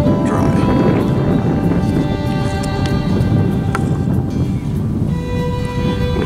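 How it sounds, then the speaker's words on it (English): Steady wind blows outdoors, buffeting the microphone with a continuous low roar and rumble that barely changes for several seconds. "I'm gonna see if the wind dies down just a little bit"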